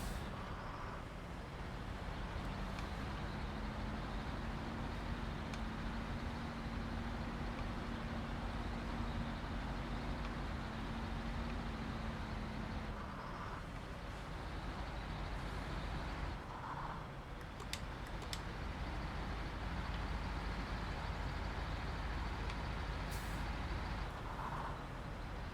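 Steady truck engine drone in all-wheel drive, grinding through soft dirt in the off-road driving game Snowrunner, a continuous rumble with a faint tonal whine partway through, no talking.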